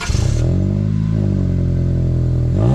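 A loud 7th-generation Honda Civic engine with an aftermarket intake holding a steady, throaty rev, with a sharper rise at the start and another swell near the end.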